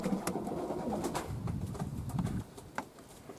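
Pigeons in a morning loft coo repeatedly nearby, low throaty rolling calls that overlap, with soft rustling and faint bird sounds around them and no talking.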